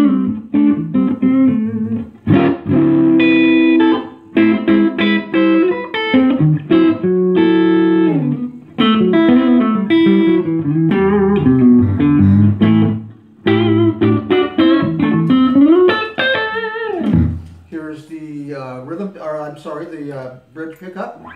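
A clean electric guitar on its neck pickup played alone, strummed chords and single-note runs with a warm, rounded tone and some reverb, loud and close.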